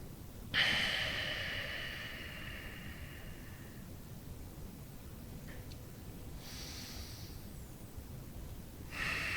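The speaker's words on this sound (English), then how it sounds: "Breathing in and out of the nose." Slow nasal breathing during a floor stretch in a morning mobility routine, with one strong airy exhale near the start followed by softer, fainter breaths spaced several seconds apart against a steady low background hum.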